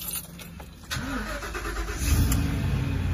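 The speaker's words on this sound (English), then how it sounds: "as you can hear, the truck is now started" A truck engine cranks and catches after a fuel pump repair, settling into a steady idle with a low rumble that grows louder toward the end, heard close by with no talking.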